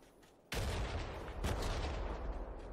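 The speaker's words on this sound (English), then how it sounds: "I'm getting shot at." Gunfire in the video game PUBG on the Karakin map, a sudden loud burst of shots that breaks a quiet moment and keeps echoing, with a second sharp crack shortly after.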